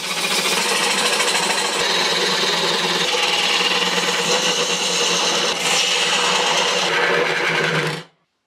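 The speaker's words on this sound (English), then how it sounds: "Now I can turn down the bottom to size." A wood lathe turns down the bottom of a segmented bowl, giving a steady loud whirring and scraping of tool against spinning wood that holds throughout before stopping abruptly at the end.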